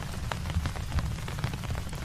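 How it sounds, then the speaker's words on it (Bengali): Heavy raindrops pelting a tin roof in a cartoon scene at an old roadside rice hotel, a steady dense patter with irregular louder drops throughout, close and continuous with no voices. "বৃষ্টির বড় বড় ফোঁটা টিনের ওপর টপ টপ করে ঝরছে।"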